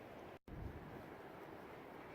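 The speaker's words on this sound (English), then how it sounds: "With this wind and cold. It's pretty windy out. It's super windy." Strong, cold winter wind at Nordhouse Dunes buffets the microphone in a continuous broadband roar, close and heavy, briefly cutting out for a moment near the start.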